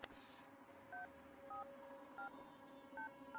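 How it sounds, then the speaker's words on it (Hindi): A telephone number is keyed in as a series of clean, evenly spaced dial tones, five or so short beeps over a faint hissing background, fairly quiet and close. "यार तू फोन लगाएगा ठीक है प्लीज।"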